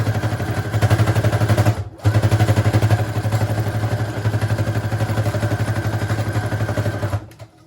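Sewing machine stitching through layers of fabric for a large handmade journal, a loud steady mechanical chatter with a brief pause near two seconds, then running continuously before stopping at the end.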